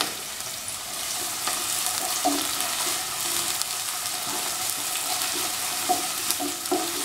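Onion, green chili, garlic and ginger frying in a pan of hot oil with salt, a steady dense sizzle throughout with small crackles and stirring clicks, close and fairly loud, no talking.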